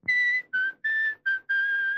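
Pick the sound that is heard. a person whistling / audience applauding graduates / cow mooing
a person whistling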